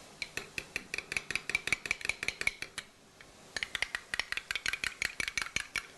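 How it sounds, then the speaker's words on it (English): Mayonnaise dipping sauce being mixed in a bowl: a rapid run of close, bright clinks as the utensil strikes the bowl, a short pause near the middle, then the quick clinking stirring resumes. "Just simply mix that until all the mayonnaise is put together."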